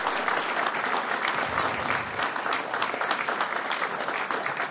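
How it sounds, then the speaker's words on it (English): Sustained, even applause fills a hall at the India SME Excellence Awards ceremony as the audience greets the chief guest, the Governor, with no one speaking. "Let's give him a warm, warm round of applause."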